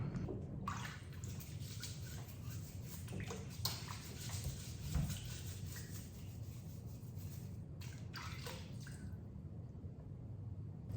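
Carrots scrubbed under running water, a continuous faint stream of splashing water with rubbing and light knocks mixed in throughout, quiet and steady, no voices.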